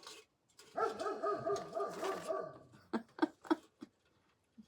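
A dog makes a run of whiny, yelping vocalizations followed by several short sharp barks, close by but fairly quiet, with no talking.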